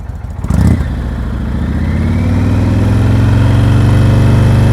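A motorcycle engine starts close by during slow-speed riding practice, then settles into a loud, steady putter with a low throb that holds unbroken to the end.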